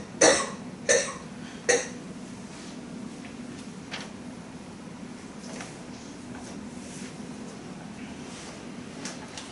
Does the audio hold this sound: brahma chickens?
no